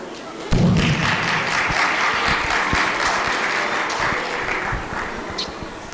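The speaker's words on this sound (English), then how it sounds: "Another round of applause for Sophia." Audience applause at a refugee forum event in Waikato, bursting in abruptly and holding as a dense, loud wash of clapping from a large crowd, with occasional thuds, before easing slightly toward the end.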